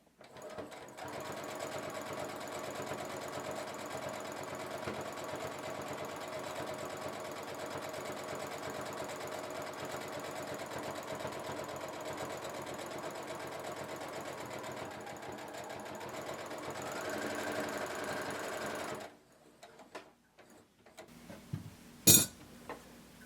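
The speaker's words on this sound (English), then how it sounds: "So using a really long stitch, you're just going to sew across the bottom of it." A sewing machine runs a long basting stitch across the bottom of a sequin cardigan piece, a steady mechanical whir for about nineteen seconds, then stops, followed by faint clinks and a sharp tap.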